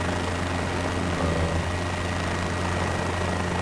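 Helicopter flight in Microsoft Flight Simulator: a steady, loud rotor and engine drone that holds a constant low hum with no talk throughout.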